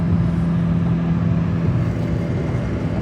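A 36-year-old JDM Nissan BE-1 drones along at high revs in top gear, a steady, loud engine hum with constant road and wind roar, heard from inside the cabin with no talk.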